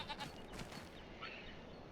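Goats bleating on a homestead farm in Farming Simulator 25, with faint, scattered calls over a steady hum of background noise and no voices.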